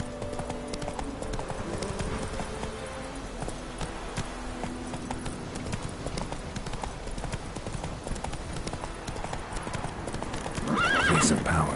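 Roach, the horse in The Witcher 3: Wild Hunt, gallops with steady drumming hoofbeats under busy game sound, and a loud whinny rises near the end; a voice is heard.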